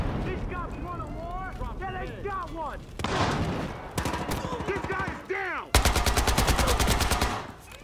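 Submachine gun fire from the video game Battlefield Hardline crackles in loud rapid bursts, the longest near the end, mixed with other game effects and whooshing sounds.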